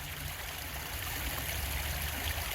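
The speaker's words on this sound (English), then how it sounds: "Here is one of the two areas where it seems that the lake is draining out into the creek." Lake water drains out into a creek, a continuous close rushing trickle with a steady broadband wash and low burble, alone without voices.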